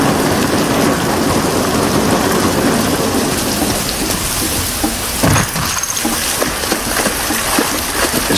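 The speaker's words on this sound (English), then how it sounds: "This rain ain't gonna do us any good." Heavy rain pours in The Last of Us, a loud, dense continuous downpour with low rumbles of thunder rolling underneath and scattered louder drips near the end.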